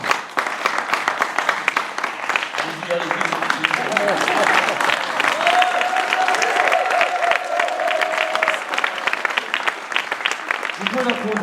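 An audience at a French town council meeting applauding, a sustained wash of many hands clapping that swells and holds for several seconds, fairly loud in a hall, with a voice speaking over it near the end.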